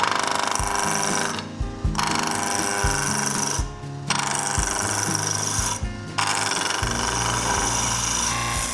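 A wood lathe turns a pepper mill blank, a loud, continuous rough chattering roar of the gouge cutting wood, broken by three short pauses as the tool lifts off, close and without speech.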